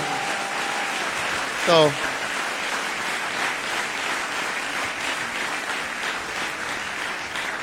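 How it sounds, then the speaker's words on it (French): Congregation at a church service clapping in a steady, dense wash of applause throughout, with a brief voice and a short tonal whistle near the start. "Give the Lord a mighty clap offering."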